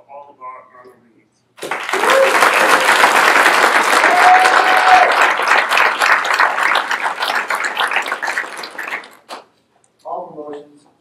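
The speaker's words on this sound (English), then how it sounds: "Please join us for another round of applause for all of our honorees." Sustained audience applause for honorees at a military chief induction ceremony, loud and steady for about eight seconds, with brief speech before and after.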